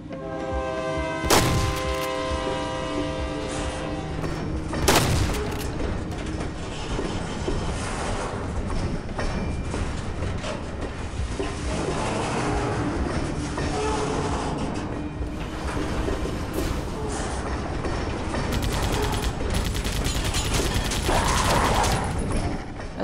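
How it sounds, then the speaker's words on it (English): A train pulls into a station in a video game, with heavy mechanical rumble, loud clanks and hissing bursts, and a sustained roaring rolling noise that builds and holds throughout, no talk over it. "we have to watch the train arrive first"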